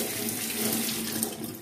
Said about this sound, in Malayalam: നമ്മൾ പൊളിക്കാൻ ആവശ്യമുള്ള ഉള്ളിയോ വെളുത്തുള്ളിയോ എടുത്ത് ആദ്യം നമ്മൾ ഒരു ടാപ്പ് വാട്ടറിൽ അത് കഴുകണം